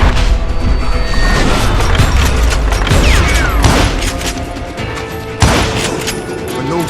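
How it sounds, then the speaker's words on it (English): Double-barrel shotgun blasts in the Western shooter Call of Juarez Gunslinger, loud and dense amid a chaotic battle din, with several heavy booms standing out over continuous gunfire. "Robert Ollinger appeared with his terrible double-barrel shotgun."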